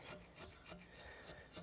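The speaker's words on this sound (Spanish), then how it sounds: "es darle una lijada a la superficie con una lija fina" Quiet, rhythmic rasping strokes of fine sandpaper rubbing over chisel-carved stone, several quick passes in a steady back-and-forth pattern.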